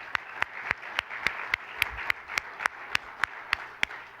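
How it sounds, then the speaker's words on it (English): At a lifetime achievement award ceremony, a single pair of hands claps in an even, sharp rhythm about three or four times per second, close and distinct over a quiet room. "another round of applause for our special guest tonight"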